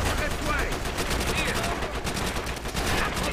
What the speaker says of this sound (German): Da war noch ein MG